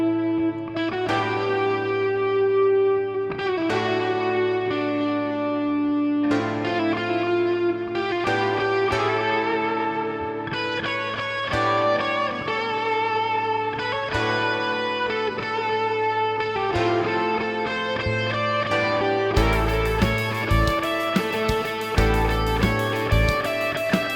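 Electric guitar run through Studio One's Ampire amp simulator with analog delay, fat channel and room reverb plays a melodic, sustained line over a steady low note, echoing repeats trailing each phrase, no talking.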